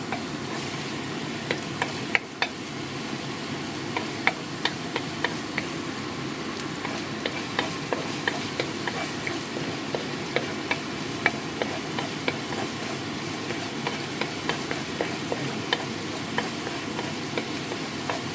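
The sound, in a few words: garlic (bawang) frying in a pan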